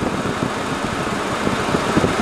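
A Daihatsu Mira Avi sits at idle with its air conditioning on, giving a steady low engine rumble with faint vibration and no talk over it.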